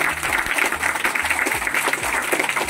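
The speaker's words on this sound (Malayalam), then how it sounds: "നിങ്ങൾക്ക് വേണമെങ്കിൽ ഒരു കയ്യടി കൊടുക്കാം" Audience clapping at a health talk event, a steady patter of many hands that fills the whole stretch at moderate loudness, with faint low background murmur beneath.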